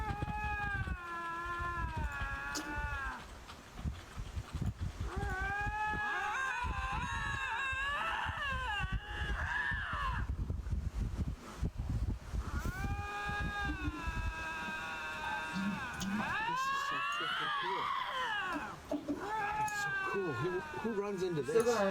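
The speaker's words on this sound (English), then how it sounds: "Two Lynx in Ontario have intense conversation" Two lynx in Ontario yowl back and forth in long, wavering, drawn-out cries that rise and fall, one call overlapping or answering the other almost continuously and loudly, with no talk.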